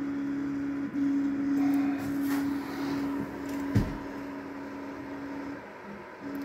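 A CoreXY 3D printer with a redesigned print head and near-silent fans runs its stepper motors. A steady low hum holds through most of the stretch, with a few faint clicks and one sharp knock partway through.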